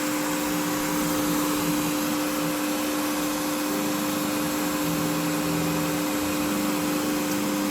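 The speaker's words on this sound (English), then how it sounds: "which causes the fan to come on to help cool everything down" A 3D printer's cooling fan runs steadily, triggered by the heated bed temperature, a loud continuous whirring hum with constant tones and no pauses throughout.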